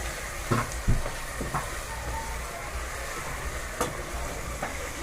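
Meat and rice being stirred together with pilau masala in a pot, with scraping, soft stirring knocks near the start and later, over a steady background sizzle.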